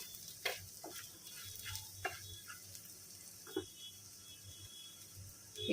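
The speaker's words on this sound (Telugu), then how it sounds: "ఎందుకంటే అల్లం ముక్కలు వేగాలి కదా బాగా." Ginger pieces frying in a tempering in a pan, with a low steady sizzle under intermittent stirring clicks and scrapes of a spoon, close and fairly quiet.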